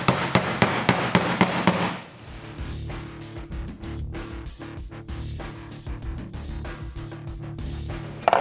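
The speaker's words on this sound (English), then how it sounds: "what I prefer using is ball peen hammers. Now I'm going to come in here and I'm just going to hit right on my line." A ball peen hammer strikes a car bumper set on a bumper bag in a quick run of about seven sharp, loud raps, and then lighter, irregular taps continue over a steady hum.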